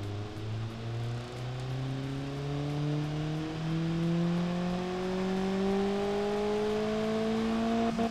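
An engine revs up in the Automation car design game, its pitch climbing smoothly and steadily for about eight seconds as the rev limit is pushed, loud and close with no talking.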